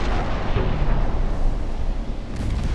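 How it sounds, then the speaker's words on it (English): Torpedoes launched during a naval battle in the game Ultimate Admiral Dreadnoughts, heard as a loud, continuous rumbling whoosh and boom that lasts a few seconds without letting up. "aggressive torpedo fire authorized. Do it, do it, do it! Torpedoes away."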